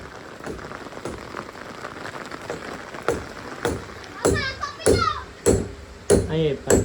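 Village rain falls with a steady hiss of drops on surfaces, while splashing and bursts of voices and shouting grow louder in the second half.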